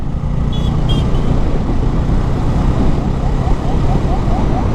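A microbus passes along a moonlit road in Ukhia at night, its engine and tyre roar rising to a loud, steady rush that holds throughout the clip.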